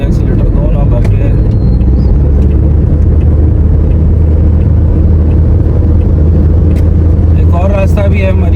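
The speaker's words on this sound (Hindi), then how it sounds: "ऑटो वाले भाई एक्सीलेटर दो ना भर के।" An auto rickshaw pushes hard along an expressway, its engine and road noise a loud, close, unbroken roar with a deep rumble throughout.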